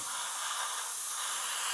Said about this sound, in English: It's spraying absolutely fine.